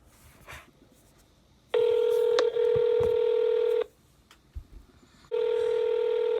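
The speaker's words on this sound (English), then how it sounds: "If you know your party's extension, please dial it now." Touch-tone keypad tones on an automated phone line, two long, loud, steady tones separated by a quiet gap with faint background noise, the second starting near the end.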